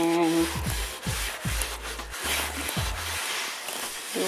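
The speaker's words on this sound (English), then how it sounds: "wipe the excess off" Old rag rubbed across a small wooden entryway table to wipe off excess wood stain, giving a steady close scrubbing swish in repeated back-and-forth strokes, with no talk over it.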